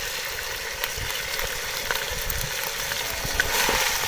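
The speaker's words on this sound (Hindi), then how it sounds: "और इसकी मैं तकरीबन 2 से 3 मिनट के लिए भुनाई करूँगी" Beef frying with nihari masala in a pot gives a constant hiss and crackle, fairly loud and close, with a few soft stirring knocks and no voices.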